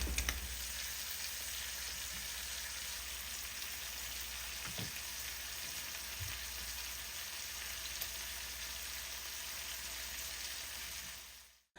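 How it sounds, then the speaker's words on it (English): Sausage frying in bacon drippings, a steady close hiss and crackle of hot fat running unbroken for several seconds, with a couple of faint knocks and no talking, before it cuts off. "I'm going to use some of the bacon drippings to fry the sausage."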